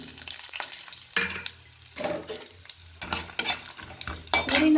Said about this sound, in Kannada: ಇವಾಗ ಕಡಲೆಕಾಯಿ ಬೀಜನ ಹಾಕೊಳ್ಳೋಣ